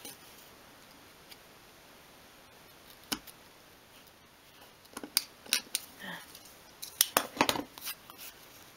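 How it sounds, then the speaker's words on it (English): A craft knife scoring and cutting through thin wood for a 1/12th scale display cabinet, heard as sparse sharp clicks and cracks that grow denser toward the end, close and fairly quiet with no talk. "you're just using your craft knife like a pencil"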